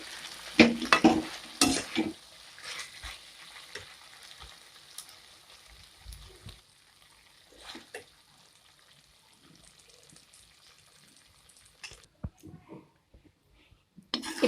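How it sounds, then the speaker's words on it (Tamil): Paneer manchurian with fresh coriander leaves is stirred in a pan with the stove off: a few louder scraping strokes at first, then soft intermittent clinks and gentle residual sizzle, with occasional faint knocks near the end. "இப்போ நம்ம மல்லித்தலை தூவிட்டு நல்லா கிளறி விட்டுக்கலாம்."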